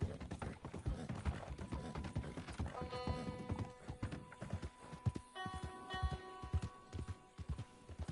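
A horse's hooves clip-clop steadily in Red Dead Redemption 2, a close, regular run of hoof strikes over sustained tonal background sounds, with no one talking.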